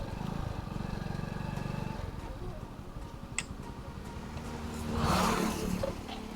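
A faltering motorcycle engine with some fault, a rough low idle chugging unevenly near at hand, then a brief louder surge, with clicks and clatter around it.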